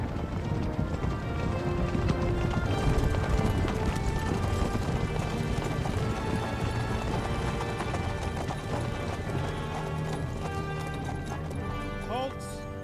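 Horse hooves gallop in Kingdom Come: Deliverance 2, a rapid, continuous clip-clop under game music and spoken dialogue.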